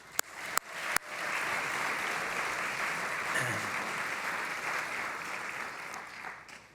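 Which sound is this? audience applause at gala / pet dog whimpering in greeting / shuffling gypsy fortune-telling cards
audience applause at gala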